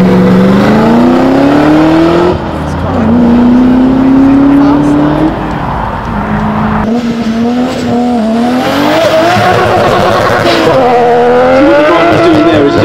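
Manual supercar held at high revs for a launch at a concours event, engine note rising and falling loudly with harsh revving and tire noise, people talking over it throughout.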